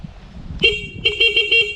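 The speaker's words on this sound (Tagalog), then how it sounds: "ito yung busina, 'di ba? Ito yung tunog niya." A Honda Click 125 V3 scooter horn beeps close and loud: one short honk, then a quick series of four rapid toots.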